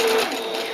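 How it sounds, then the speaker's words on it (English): A sewing machine stitches a straight line on fabric. The motor whirs in a brief, steady burst close up. "Notice as I sew the straight line"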